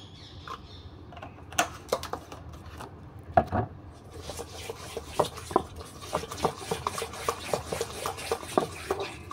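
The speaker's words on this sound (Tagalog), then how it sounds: "Mix lang natin ito hanggang sa matunaw." A spoon scraping and tapping through banana cake batter as it is mixed until melted in a kawali pan, with irregular close scrapes and clinks, quiet and alone.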